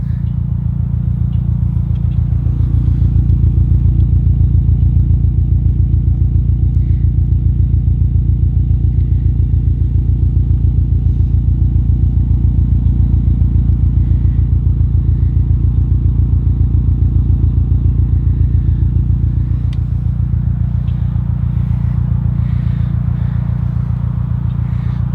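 A 2015 Subaru WRX STI's 2.5-liter four-cylinder engine idles close by with a steady, deep rumble for the whole stretch, a low throbbing pulse with no pauses.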